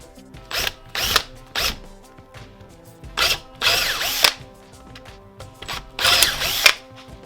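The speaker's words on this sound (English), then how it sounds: "So we're going to enlarge the hole to a 9mm." A handheld power drill widens a hole to 9mm in a 3D-printed plastic intake manifold for a Lotus Europa. Short, loud whirring bursts start and stop repeatedly, with grinding bite as the bit cuts the plastic.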